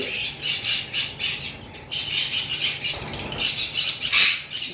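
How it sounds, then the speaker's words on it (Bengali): Female albino lovebird at a bird seller's, giving a rapid string of sharp, loud squawks and chirps close up, with brief pauses between bursts. "অ্যালবিনো একটা লাভবার্ড আমাদের কাছে রয়েছে এটা ফিমেল লাভবার"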